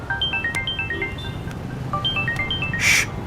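A phone ringtone plays a repeating melodic pattern of short electronic tones, steady and fairly clear, with a brief burst of noise near the end.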